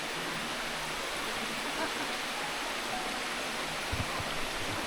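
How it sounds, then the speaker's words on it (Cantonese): The Thousand Foot Waterfall in Maluanshan Country Park, Shenzhen, roars as a dense, even wash of falling water, close and unbroken throughout with a couple of faint low knocks near the end. "千尺瀑布，"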